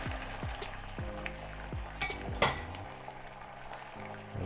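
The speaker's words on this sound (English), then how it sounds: "And again, I'll keep stirring." Pea and ham risotto stirred in a pan, with a spoon scraping and clinking against the metal in repeated strokes over a soft, steady simmer, close by with no talking.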